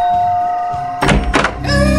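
A door opens with a solid wooden thunk followed by a short creaky rattle, loud and close, as if in a quiet house at night, over a sustained eerie musical drone.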